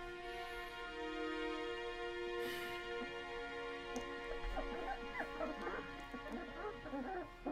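Dogs in an animated short bark, yip and whimper in short bursts over a sustained music bed, the cries growing busier toward the end.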